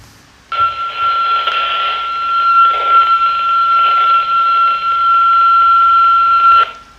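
Handheld two-way radio transmitting at half power gives a steady, loud, high electronic tone that holds unbroken for about six seconds, then cuts off abruptly.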